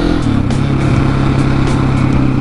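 A KTM 701 motorcycle engine pulls hard in second gear during wheelie practice, a loud, close, steady growl with a rough pulsing texture.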